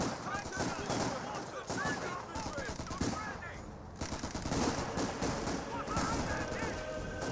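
A Company of Heroes 2 battle with Fallschirmjäger, Sturm Grenadiers and Fusiliers exchanging fire at long range, dense continuous machine-gun bursts and rifle shots with distant explosions, loud throughout under a voice commentating.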